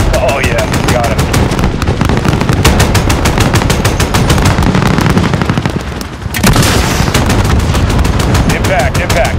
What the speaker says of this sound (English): Guns, guns, guns. Still firing, still firing.